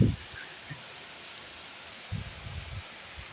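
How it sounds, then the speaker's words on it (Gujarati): Heavy monsoon rain falls on a farm near the coast as a steady, even hiss throughout, with a few low thumps and rumbles breaking in near the start and toward the end. "એવો વરસાદ વરસી રહ્યો છે કે બહુ વરસાદ છે"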